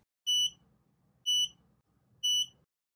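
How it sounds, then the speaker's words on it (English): Three high electronic beeps from an Aqara Curtain Driver E1 curtain motor, evenly spaced about a second apart, each with a faint low hum underneath, heard close and clear. "followed by 3 beeps."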